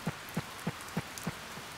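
Stylized rain in the Harvest Moon: Save the Homeland video game, heard as soft regular pulses of falling drops repeating about every third of a second over a faint steady hiss, with no voices.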